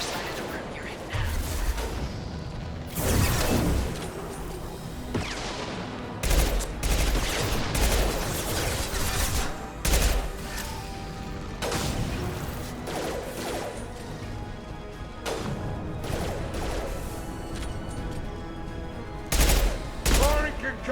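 Sci-fi combat from the Mass Effect video game, with near-continuous gunfire, heavy concussive blasts and crashing impacts layered in a dense, loud mix, punctuated by sharper booming hits throughout.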